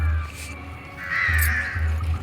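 Crows caw in short harsh calls, a couple of separate squawks at moderate distance over a low background hum, as the sun sets over a place where birds gather to eat and drink water.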